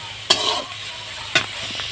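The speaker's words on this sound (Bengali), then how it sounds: "লবণ দিয়ে একটু নেড়ে চেড়ে নিচ্ছি শাক আর লঙ্কাটা" Leafy greens and chilli with salt being stirred in a hot pan: two quick, close scraping strokes of the spatula over a steady sizzle.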